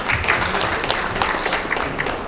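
An audience applauds to welcome Sunny Leone at an Abu Dhabi T10 cricket event, a steady dense burst of many hands clapping together, loud and sustained throughout.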